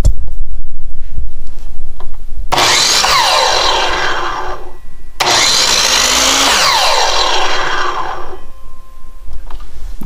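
New miter saw spun up twice, each run a loud high whir that rises quickly and then winds down fast as the brake stops the blade, with a quiet gap between runs.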